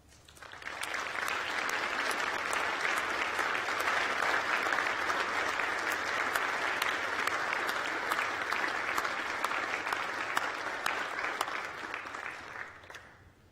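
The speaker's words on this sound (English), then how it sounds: "let me call on you, our graduates, to applaud our outstanding staff" Graduates at a university graduation ceremony applaud the staff in a large hall, a full, even roar of clapping that swells in quickly, holds steady, then tapers off.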